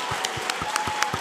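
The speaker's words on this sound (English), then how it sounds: "One more round of applause for the amazing Richard Blanco." Audience applause for poet Richard Blanco at a 92NY literary arts event, a moderate wash of clapping from a modest crowd with a few sharper individual claps standing out.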